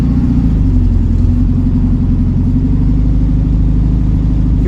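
A ratty 1967 VW Beetle engine drones steadily while driving, a loud, constant low rumble with a faint rising whine, running alone without talk for the whole stretch.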